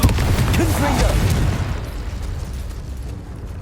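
A Confringo blasting spell goes off in Hogwarts Legacy, a loud booming burst with a brief crackle at the start that fades into a rumbling tail over a few seconds.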